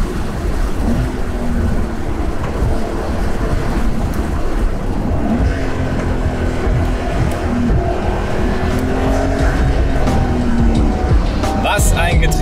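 A Porsche 911 Carrera S Cabriolet with an 8-speed PDK gearbox drives roof-down, its engine droning under heavy wind and road roar with subtle pitch shifts, while someone talks over it.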